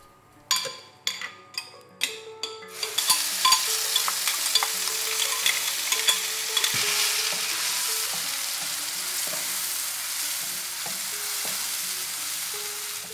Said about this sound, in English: Just put your wooden spoon in there, and if it is sizzling a little bit,